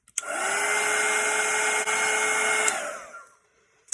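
A hair dryer runs steadily at close range for nearly three seconds, blowing a loud, constant whine and rush over painted gingerbread before switching off, with a click at the end.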